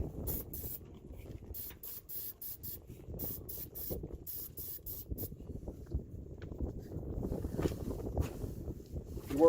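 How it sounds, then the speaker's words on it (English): An aerosol can of PB Blaster penetrating oil sprays onto truck body mounts in repeated short hissing bursts, close to the mic, followed by some low handling and rustling noise. "I'll go ahead and spray a little bit more"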